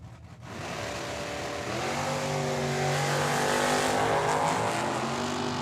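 Drag racing Nova and newer-style Mustang launching at Tucson Dragway, engines revving up into a loud, rising roar that climbs in pitch as the cars accelerate, close by and with no talk.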